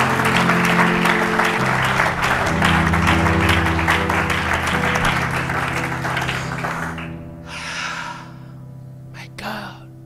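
A church congregation claps and cheers loudly and steadily under a preacher's voice, the applause fading after about seven seconds into scattered exclamations.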